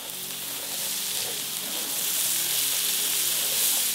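Garlic sizzles and fries in a pan while beach cooking on a remote island in the Philippines, a steady bright hiss that swells slightly and holds throughout, with no talking.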